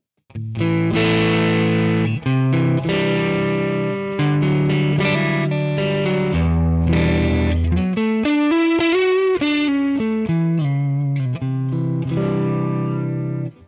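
Distorted electric guitar through a 2x12 cabinet capture on an amp modeler, playing chords and a short melodic run, loud and saturated with a thick cabinet tone, no talking.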